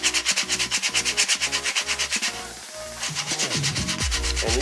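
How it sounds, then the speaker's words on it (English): Rhythmic back-and-forth strokes of 220 grit sandpaper scraping a 3D printed cosplay armour part, close and regular, pausing briefly before a few faster, uneven rubs. "Now I'm just going to take a 220 grit sandpaper,"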